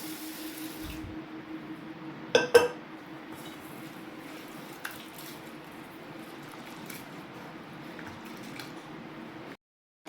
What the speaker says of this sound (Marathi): मी आता ही डाळ आपल्याला 1-2 पाण्याने स्वच्छ धुवून घ्यायची आहे